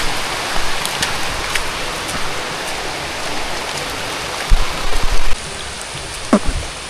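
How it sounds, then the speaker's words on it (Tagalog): Steady, dense hiss of rain falling outdoors, close and fairly loud, with a few louder splashes and drips near the end and no talking. "Maulan."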